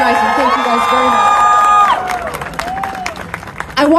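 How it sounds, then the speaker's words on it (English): Crowd at a rally outside Calgary City Hall cheering and clapping, with a sustained high shout or whoop over the applause before the noise thins and a few voices call out near the end. "Can you please give a round of applause to people who are organizing?"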